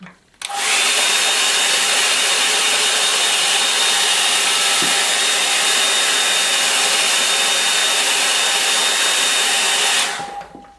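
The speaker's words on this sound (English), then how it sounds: "I'll just give it a dry with the hairdryer." A hair dryer switches on and blows with a loud, steady rushing whir for about ten seconds, then cuts off.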